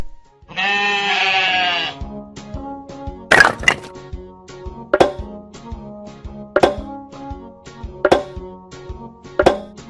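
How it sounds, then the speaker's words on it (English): Sheep bleat once in a loud, sustained cry near the start, followed by a series of sharp, evenly spaced thunks like puzzle pieces snapping into place. "Sheep."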